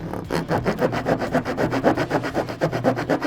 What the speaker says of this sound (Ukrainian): Пилка пиляє гірше, я б сказав би.